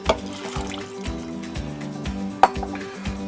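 Milk poured from a cup into a blender jar holding chopped strawberries for a homemade milkshake; a soft, low liquid pour with a couple of sharp clinks, set against a steady tonal background.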